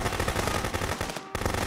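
Sustained machine gun fire from the video game Contraband Police, loud and continuous with rapid dense bursts, briefly cutting out near the end before resuming.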